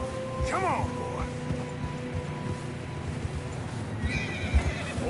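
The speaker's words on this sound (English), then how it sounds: "Horses are getting tired." In Red Dead Redemption 2, a horse on fresh snow gives a rising whinny while hooves clop steadily beneath it, set against continuous outdoor game ambience.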